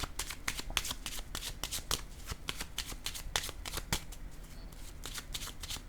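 Playing cards shuffled by hand for a card reading, with rapid crisp riffles and slaps repeating steadily throughout, close and clear with no talk.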